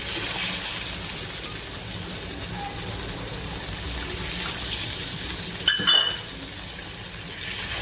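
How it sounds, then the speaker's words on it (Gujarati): Water from a small bowl splashes and gushes into a pan of okra curry for a moment, followed by a short clatter, over a steady background hiss. "એ વાટકીમાં થોડું પાણી નાખી અને આપણે આમાં નાખી દઈશું"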